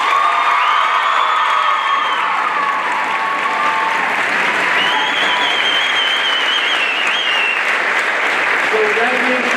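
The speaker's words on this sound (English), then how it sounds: "I think she deserves a round of applause for sure" Sustained audience applause with some cheering and whoops at a high school musical senior honors event for a production of Shrek, steady and loud from start to end, crowd sound alone.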